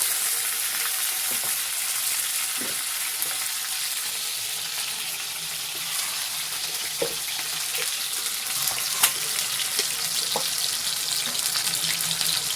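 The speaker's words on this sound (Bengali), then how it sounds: "এবার আমি মাংসর আলুগুলো ভেজে নেব" Potatoes for mutton curry fry in hot oil with a continuous hissing sizzle, broken by scattered pops and occasional light clinks, steady and close with no voices.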